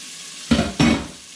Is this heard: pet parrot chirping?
no